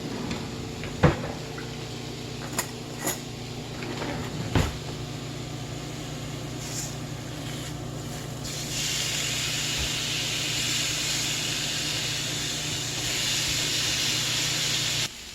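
Beef steaks for a Thai beef meal flipped in a hot pan, a few sharp clanks and knocks early on, then a steady searing hiss that swells louder and continues to the end.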